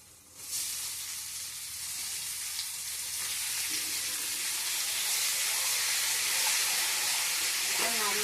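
Meat frying lightly in a pan, a steady, close hiss and sizzle that starts abruptly and keeps growing louder, with faint stirring.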